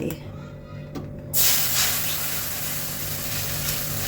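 Water tipped into a hot cooking pan sets off a sudden loud hissing sizzle just over a second in, which rushes on steadily to the end above a low kitchen hum.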